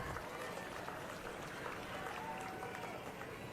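Steady applause from a large crowd at a political rally speech by Punjab CM Bhagwant Mann, sustained and fairly faint, with no talk over it.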